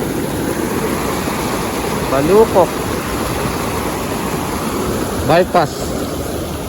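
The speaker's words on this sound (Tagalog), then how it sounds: "Grabe, lakas ng tubig dito." Strong river water rushes steadily and loudly at a fishing spot in Balukok, a dense continuous roar with brief spoken words over it.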